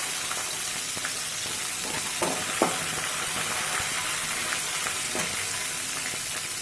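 Dried red chilies and green chilies sizzle in hot frying oil, a steady close crackle and hiss with a few stirring scrapes and no talking.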